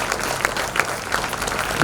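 Audience applause at a temple ritual event honouring the sound system crew, steady dense clapping from a crowd with a few sharper peaks, continuous throughout.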